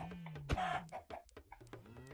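A chicken clucks in a zoo management video game, giving a sharp burst followed by several short, choppy clucks in quick succession, with faint game tones underneath.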